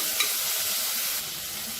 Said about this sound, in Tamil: இப்போ இதில் சின்ன சைஸாக ஒரு தக்காளி பழம் பொடியாக நறுக்கினதை சேர்த்து வதக்கிக்கலாம்